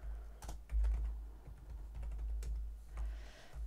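Typing on a computer keyboard while entering a spreadsheet formula, quiet irregular key clicks close by with a low hum underneath and no talking.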